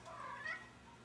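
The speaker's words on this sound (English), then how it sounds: "my cat Smokey, he was probably right outside the door" A pet cat meowing just outside a door, a single short muffled meow, faint and somewhat distant, with no talking.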